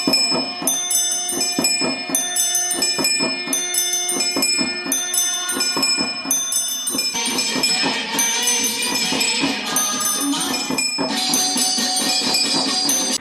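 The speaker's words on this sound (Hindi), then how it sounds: "ये है हमारी पूजन आरती की घंटी मशीन, जिसे मैंने कबाड़े के सामान से बनाया है" A homemade machine built from scrap rings a puja aarti prayer bell rapidly and repeatedly with bright metallic strikes, a steady clanging rhythm that grows denser and louder partway through.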